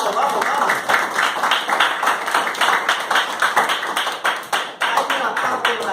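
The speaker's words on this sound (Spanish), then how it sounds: "Fuerte aplauso a Cristo Jesús" A church congregation claps loudly for Christ in a Spanish-language service, dense broadband hand claps running steadily through the whole span, with voices and cheers mixed in beneath.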